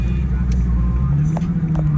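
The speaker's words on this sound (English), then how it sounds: "we got Jason driving the car right now" Infiniti G37 with aFe Pro Dry S air filters being driven, a steady low engine drone with road rumble heard from inside the cabin, faint ticks and shifts over the hum.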